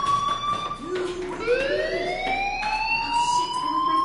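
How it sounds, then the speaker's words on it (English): Fire alarm in the video game Life Is Strange: a loud, steady electronic tone that sweeps upward, with rising whoops layered over a continuous high pitch, sounding alone throughout. "do you hear that fire alarm?"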